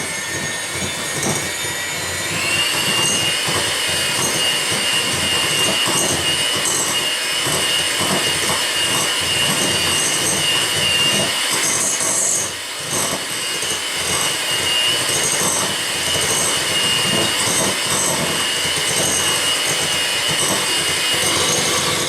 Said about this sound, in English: Enjoying this new mixer that I got. It's by Black & Decker and it is awesome.